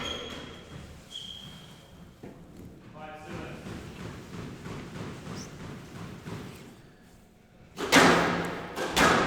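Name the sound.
squash ball being hit during a match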